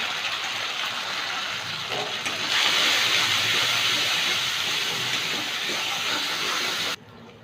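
Whole spices tempering in hot oil in a pan, with ginger paste to follow for a taro-leaf and prawn curry, give a steady loud broadband sizzle that swells after a couple of seconds and drops sharply near the end.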